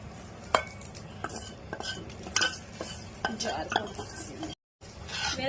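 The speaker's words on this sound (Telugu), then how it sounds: "ఇవన్నీ ఒకసారి మిక్స్ చేసేద్దాం" A spoon stirs pulihora with curry leaves and peanuts in a pan. Scraping strokes and light clinks repeat irregularly over a low sizzle, with a brief cut to silence near the end.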